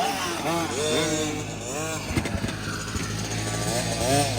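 A Kawasaki KX 500 dirt bike is bump-started in gear and its two-stroke engine catches, revving up and down in rising and falling sweeps, close and loud, with voices talking over it.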